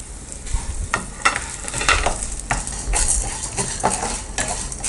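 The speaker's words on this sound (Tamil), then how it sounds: "பூண்டு கொஞ்சம் நல்லா வதக்கிக்கலாம்." Garlic and pepper sautéing in oil with a crackling sizzle, while a utensil scrapes and taps against the pan in irregular bursts close by.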